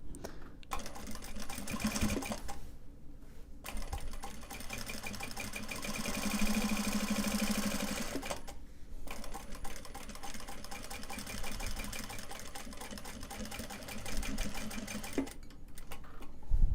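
Sewing machine stitching down Japanese fabric for a cell phone purse, running in sustained whirring bursts with short pauses between them, close and steady with no talking.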